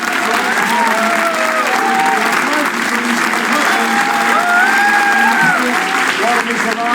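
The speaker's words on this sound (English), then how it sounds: "Can we please extend that applause to our wonderful cast." Sustained applause from a television studio audience for the cast fills the whole stretch, dense and loud, with cheers and voices threading through the clapping.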